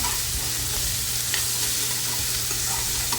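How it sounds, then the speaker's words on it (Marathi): Onion with crushed garlic and green chilli sautéing in a pan for tandulja bhaji, a steady close sizzle under continuous stirring with occasional soft scrapes, no talking. "ठेचून घेतलेला लसूण आणि हिरवी मिरची ती घालायची आहे आणि ती कांद्यासोबत व्यवस्थित परतून घ्यायची"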